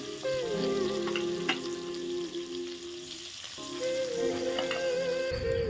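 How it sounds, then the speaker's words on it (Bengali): Small fish fry in oil in a pan, a loud close crackling sizzle that runs steadily throughout, with a tonal hum from the stove and a brief dip near the middle, no talk. "চলো আমি আগে মাছটা ভেজে নিই"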